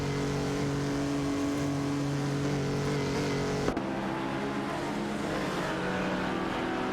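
Racing cars, a Jaguar C-Type and a Ferrari 250 Testarossa, in a simulated race, engines droning with a steady sustained tone, loud and continuous, with a brief knock midway.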